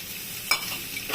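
Eggplant pieces tipped into a pan of frying drumstick flowers and potato, then stirred: a soft steady sizzle broken by two sharp scrape-and-clatter bursts of the spatula, close by.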